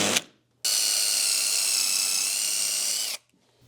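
A power drill runs a countersink bit into wood during a furniture build, one steady, close whirring burst lasting a few seconds, with a short knock beforehand and quiet after.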